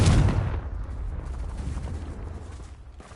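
A Confringo fire spell in Hogwarts Legacy bursts with a heavy, close boom at the start, then a long rumbling roar slowly fades away.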